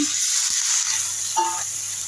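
Eggplant pieces sizzle in a hot pan with pressed dried fish (chapa shutki), a steady close frying hiss with a few soft stirring knocks.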